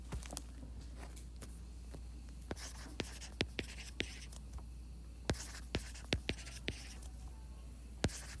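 Pen or marker writing numbers onto a table, producing quiet scratchy strokes and soft taps in irregular bursts against a steady low hum.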